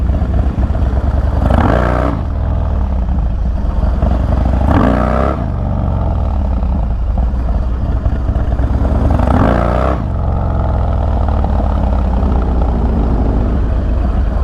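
A Harley Dyna motorcycle engine idles with a deep, loud, steady rumble close by, broken by three sharp throttle blips that rise and fall quickly. No one speaks.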